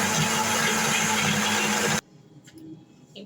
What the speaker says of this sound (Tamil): வாங்க அரைக்கலாம்.